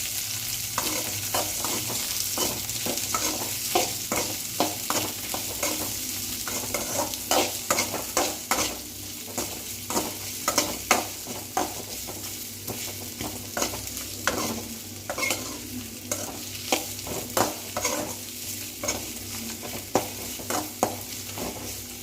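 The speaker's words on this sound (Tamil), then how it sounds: "கூடவே வெங்காயம் சேர்த்துட்டு நம்ம நல்லா வதக்கி வச்சுக்கலாம்" Onions and four dried red chilies sautéing in a pan for paruppu keerai kadayal, a steady close sizzle with frequent stirring scrapes and clicks of a spatula throughout, no voices.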